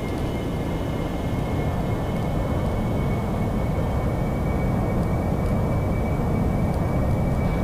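An AV-8B Harrier jet in DCS World runs at full throttle on its takeoff roll: a loud, steady, dense engine roar with a thin high whine running through it. It holds unbroken for the whole span.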